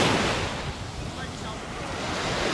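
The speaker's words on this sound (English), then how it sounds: "actual waves come straight up over my sandals" Sea waves washing up on the beach at Playa De Muro, a steady close surf wash with wind noise on the microphone, loud and continuous.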